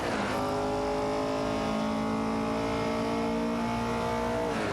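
Race car engines from an AI racing video game with a Porsche 906 and a Lola T290, revving at high pitch with rising and falling gear tones, loud and constant throughout without any voices.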